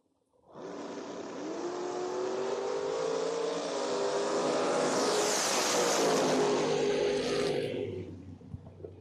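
A Chevrolet Camaro and a Chevrolet S10 launch side by side in a drag race, engines roaring loudly and building through a sustained full-throttle pass before fading as the run ends.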